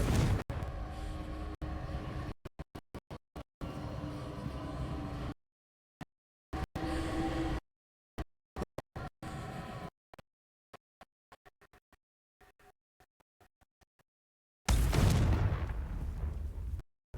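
Confringo fire-blast spell cast repeatedly in Hogwarts Legacy on PS4, heard as a series of sharp, loud explosive bursts with abrupt cutoffs and a final heavy boom with a decaying tail.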